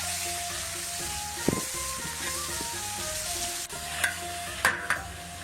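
Ginger and garlic fry in hot oil with chili, a close, continuous sizzle broken by a few sharp clinks and scraping stirs from a spatula, no voices over it.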